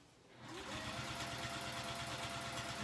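A sewing machine runs steadily as it stitches along a folded fabric edge, a fast, even mechanical whirr that starts after a brief pause and keeps going without interruption.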